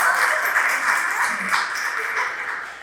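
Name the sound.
audience clapping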